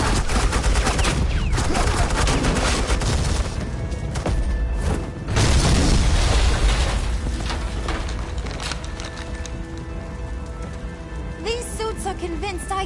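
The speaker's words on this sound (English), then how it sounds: "suppressing fire" Bursts of suppressing gunfire rattle in the video game Batman: The Enemy Within, a loud dense crackle of rapid shots that swells and fades over about thirteen seconds, with no one talking.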